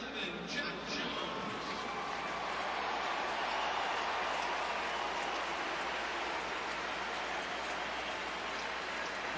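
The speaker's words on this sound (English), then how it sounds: "Nice applause for Jock Jones." Fans at a June 2006 Chicago Cubs at Minnesota Twins baseball game give a batter a steady, even wash of applause that sounds like rain and stays at a moderate distance for the whole stretch.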